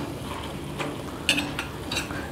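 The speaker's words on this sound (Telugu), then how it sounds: "కొద్దిగా టమాటాలని మెదుపుకుందాం" Cooked tomatoes being pressed and mashed in a pan with a steel bowl for Tamil Nadu tomato gothsu, giving soft squelching scrapes and a few light metallic knocks close by, with no talk.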